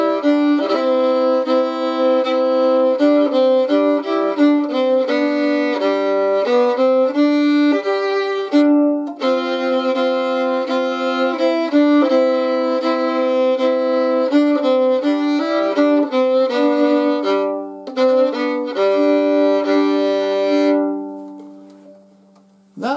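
Solo fiddle plays the English tune Tea Clipper using double stops over a sustained open D drone, a bright, close bowed melody running continuously for about twenty seconds before the final note fades away, with no talking.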